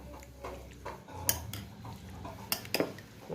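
A spoon stirring soto soup in a bowl, with light metallic clinks and taps against the dish, a few sharper knocks, close up and otherwise quiet.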